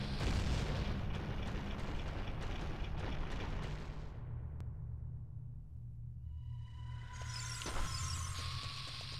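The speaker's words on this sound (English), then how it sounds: "It's gonna explode." A bomb blast in The Legend of Zelda: Ocarina of Time, a loud sustained rumbling boom that fades away, followed by bright chiming game effects.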